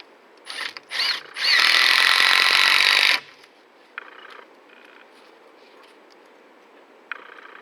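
Power ratchet driving fasteners while building a roof in the woods: two short whirring bursts, then a sustained loud buzzing run of about two seconds, followed by quieter intermittent mechanical clicks and brief buzzes.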